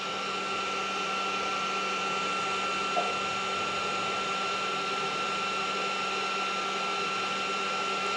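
A Bolt Buster induction heater heats a seized bolt near a cast top, giving a steady electrical hum with a constant high whine, unbroken and even in level throughout.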